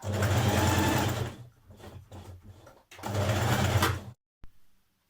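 A sewing machine stitches the underarm seam of a sweatshirt in a loud, close, rapid run, then pauses in short bursts for back tacks before a second long run and a final brief whir.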